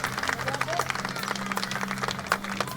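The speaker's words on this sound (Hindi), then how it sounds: "मैं एक बार इन दोनों कवियों के लिए आपसे जोरदार तालियों की अपेक्षा करता हूं।" An audience applauds two poets at a kavi sammelan literary gathering, a steady dense clapping that is moderately loud and continuous throughout, with a voice faintly present underneath.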